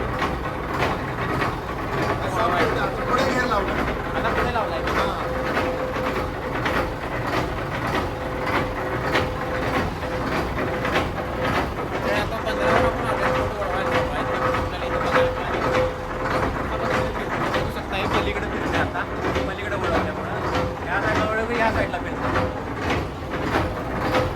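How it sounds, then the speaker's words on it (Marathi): A 60 ft fishing boat under way in a harbour gives a continuous engine drone with clattering mechanical rattles, loud and even throughout, while people's voices murmur faintly in the background. "बोट आता बंदरात चालते"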